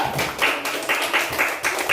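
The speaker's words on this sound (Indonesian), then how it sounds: "tepuk tangan buat kelompok 2" Applause for a group of students in a classroom, a short burst of brisk, slightly uneven clapping from several people, fairly close and without talk.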